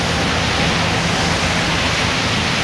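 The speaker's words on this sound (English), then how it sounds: "Got a cool water fountain in the background" Water from a park garden fountain in Yokohama splashes steadily, a dense continuous wash of falling water heard close and fairly loud, with no voices over it.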